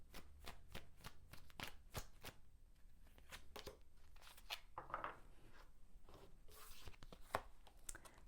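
Tarot cards are shuffled and drawn, soft close riffling and flicking card sounds in quick irregular bursts, faint and alone without talk.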